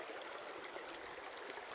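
Creek water flows over riffles in an even, continuous hiss and rush, quiet and steady throughout, with no voices.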